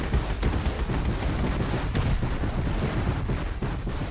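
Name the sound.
rockets hitting and exploding in a video game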